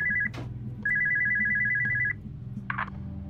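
Telephone ringing in the horror video game Spooky's Jumpscare Mansion, a loud steady electronic trill in two bursts, a short one then a longer one, over low droning game ambience.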